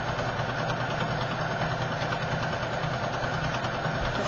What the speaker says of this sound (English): So let's start sewing, and I'll just stretch as I sew.